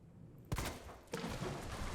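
A gunshot blast in Resident Evil 2, aimed at a creature and fired with a magnum, cracks out loudly after a quiet moment, and a second shot follows about half a second later.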